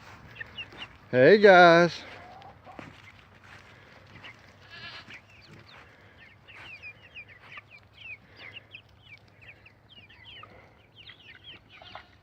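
Chickens clucking and chirping close around the feet at feeding time on a farm, a busy scatter of small calls after a loud animal cry near the start, with a brief greeting spoken early.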